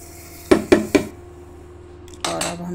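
Spoon or ladle scraping and knocking against a pan while raw mango jam is stirred, three sharp clacks close together, a pause, then a longer scraping stir.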